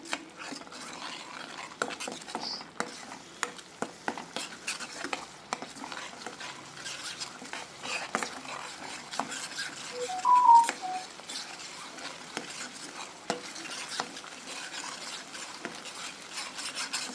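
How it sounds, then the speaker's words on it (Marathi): Onion, garlic and green chili paste sautéing in oil for a spiced cauliflower dish, a faint continuous sizzle broken by frequent light scraping and stirring clicks throughout. "तेलावर छान गुलाबी रंगावर परतून घ्या"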